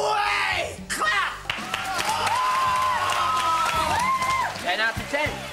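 A studio audience at a children's TV show claps and cheers loudly, with whoops and yells rising over sustained applause and a voice calling out near the end.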